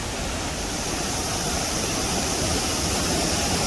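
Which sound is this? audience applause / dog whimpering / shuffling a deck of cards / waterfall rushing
waterfall rushing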